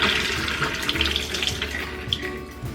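Soaked beans for sprouting are rinsed under a running kitchen tap, with water splashing continuously and close by, punctuated by small irregular spatters.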